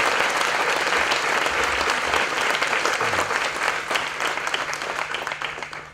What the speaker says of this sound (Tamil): ஒரு அரங்கம் நிறைந்த பலமான கைத்தட்டல்